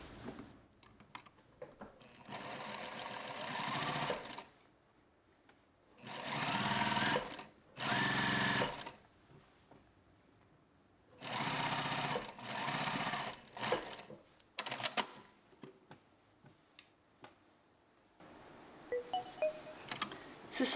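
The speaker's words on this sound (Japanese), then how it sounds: "裾の三つ折り端を1ミリで縫っていきます。" A sewing machine stitches a three-fold blouse hem in Liberty fabric at a 1 mm edge. The whirring runs in several distinct bursts of a second or two each, separated by quiet pauses, with no talking.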